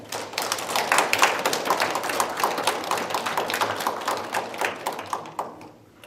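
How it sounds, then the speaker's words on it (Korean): A crowd claps to welcome an honoured elder at a monthly fire-safety education event. The dense, fairly loud applause of many hands holds steady for several seconds and then thins out at the end. "큰 어른을 모시겠습니다. 박수로 환영했습니다."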